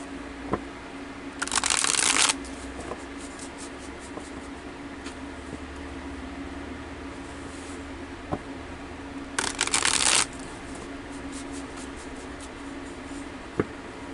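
Cards shuffled for a card reading in a quiet room, with two short riffling bursts several seconds apart and faint taps and handling noises between them.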